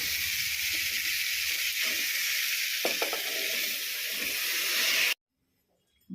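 Steady, loud sizzling as banana stem is added to tomato and onion frying in a pan, a continuous hiss with a few soft stirring knocks before it cuts off abruptly.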